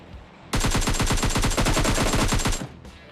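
Rapid automatic gunfire in a video game, a single sustained burst of evenly spaced loud shots lasting about two seconds, then a brief faint echo and silence.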